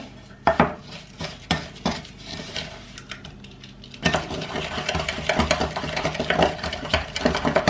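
Cookie dough being stirred in a bowl with a wooden or silicone spoon, giving repeated clinks and scrapes that grow steadier and more continuous partway through, close and fairly loud with no voices.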